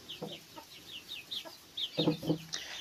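Young turkeys make soft, repeated clucking and chirping calls, a quiet scatter of short notes close by, with a small cluster of louder calls near the end.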